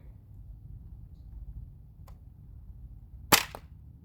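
A Demolition dart blaster fires a single sharp shot, loud and close, against a quiet room background with a faint earlier click.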